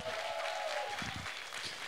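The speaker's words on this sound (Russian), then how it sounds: "И давайте аплодисментами поддержим в начале." Audience applause at a sales-training seminar, a steady wash of clapping from a room of listeners that holds at an even level for under two seconds.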